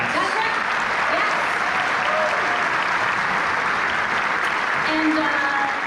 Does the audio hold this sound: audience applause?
yes